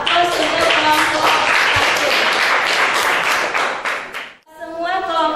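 A classroom group claps for Group 1 after a presentation, giving several seconds of dense, lively applause that stops abruptly, followed by a brief voice.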